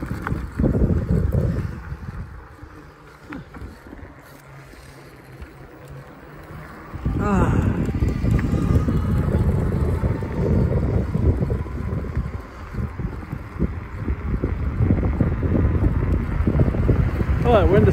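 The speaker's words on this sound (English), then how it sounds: "Oh, that wind is strong." Strong wind buffets the microphone outdoors by green fields on a cold spring e-bike ride, a steady loud roar that swells heavier about halfway through and keeps gusting, with a voice talking over it.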